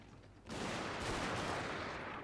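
Musket volley fire from a Tanegashima or pistoleer unit in Shogun 2, a sudden dense crackling burst of many shots together that rolls on loudly for nearly two seconds after a quiet start.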